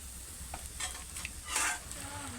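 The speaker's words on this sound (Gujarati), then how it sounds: "આ નાખી દીધા છે હવે મિક્સ કરી નાખીએ" A spoon stirs peanut bhajiya curry, a Patan-style shing bhajiya shaak, in a hot pan, scraping and sloshing in soft bursts over a quiet, steady sizzle of frying.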